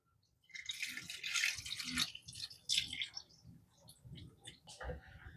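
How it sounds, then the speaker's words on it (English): Water pours into a cooking pot of peeled potatoes, a soft, close splashing and trickling that comes in uneven bursts with a few drips, fairly quiet overall. "So I'm gonna add in some water."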